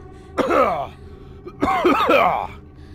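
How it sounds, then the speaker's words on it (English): A man clears his throat twice in a rough, gravelly way, close and fairly loud, with a short pause between the two rasps. "And I clear my throat for that."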